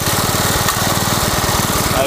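A Briggs small engine fuelled by a 90% turpentine, 10% kerosene mix runs at a steady idle, a loud continuous buzzing putter heard up close.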